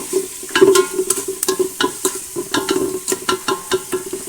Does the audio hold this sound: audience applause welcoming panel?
no